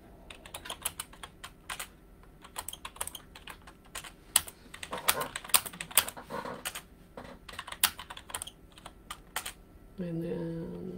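Numbers are typed on a computer keyboard in irregular bursts of close, crisp key clicks, some louder taps among them, before a voice begins at the end.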